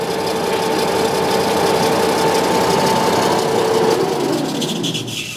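Oster revolving die head threader running forward at 181 RPM: a loud, steady mechanical motor hum with a whining drone, winding down near the end.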